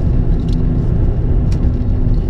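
Steady low engine rumble and road noise from a car driving along a country road, a continuous close drone with no talk.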